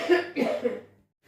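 A pair of close, harsh coughs in quick succession, fairly loud, followed by a brief quiet pause and a faint trailing sound.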